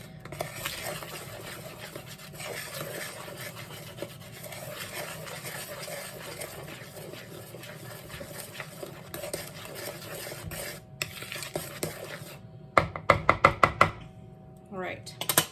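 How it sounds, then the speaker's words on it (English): A butter knife stirs muffin batter in a bowl, a steady scraping and rubbing that ends in a quick burst of sharp taps against the bowl, with a voice speaking over it. "So now you're just going to mix everything together."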